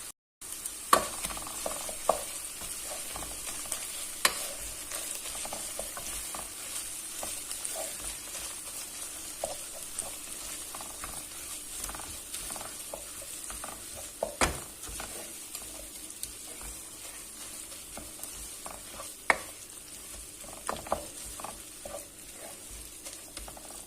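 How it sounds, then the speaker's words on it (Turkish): Minced meat and tomato paste frying together for pasta sauce, a steady soft sizzle with frequent scraping and clacking stirs of a spoon in the pan, no speech. "Şimdi de sıra geldi salçamızı koymaya. Ve tekrardan karıştırmaya başlıyoruz."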